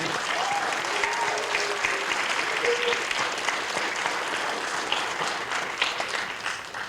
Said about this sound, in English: Let's give another round of applause for this year's National Art Honor Society winners.